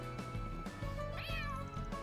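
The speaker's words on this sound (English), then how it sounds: "here's Tiger the cat" Tiger, a cat in the video game Trails Through Daybreak II, gives one short, faint meow over steady game music.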